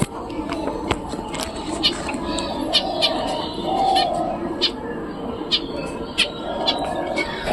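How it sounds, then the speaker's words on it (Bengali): Finch birds calling close by near their nest, with short chirps and squawks repeating irregularly over a low background hum. "ফিন্স পাখি দেখো বাসার কাছে চলে আসছে বাসাতে ঢোকার জন্য"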